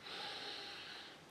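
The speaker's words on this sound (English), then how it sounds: "So let's give it a sniff." A single quiet sniff at a glass of Harviestoun beer, a soft drawn-in breath close to the microphone lasting about a second.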